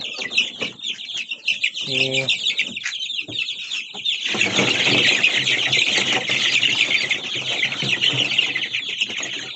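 A group of young chicks at night, peeping constantly and densely close to the microphone, with a short low-pitched sound near the start.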